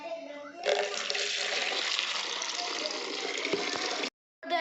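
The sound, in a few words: filling a tin container with water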